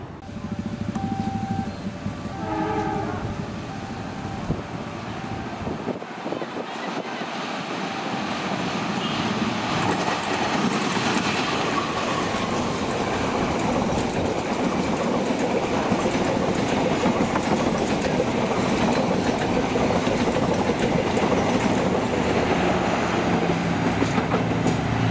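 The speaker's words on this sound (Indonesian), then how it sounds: "Barusan kedatangan kereta api Walahar Express 389." Walahar Express 389 passenger train pulling into Karawang station, starting with a horn-like tone and then a long, steady rumble of wheels and cars passing close by.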